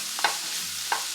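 A broccoli, egg and grated coconut thoran is stirred in a pan, with two soft scrapes of the spoon over a low, steady sizzle from the frying food.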